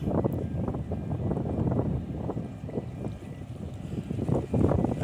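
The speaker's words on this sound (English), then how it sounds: "This runs like clockwork, this wee boat." A small boat's engine rumbles low and steady amid wind and water noise as it departs, a continuous churning sound close by, with no talking.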